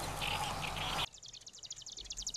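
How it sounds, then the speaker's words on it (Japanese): A marsh grassbird (Oosekka) sings a quick run of repeated chattering notes in a reedbed at Ogata village, heard clearly after a brief burst of broad noise. "今のビチュビチュビチュビチュビチュというのがオオセッカの声です。"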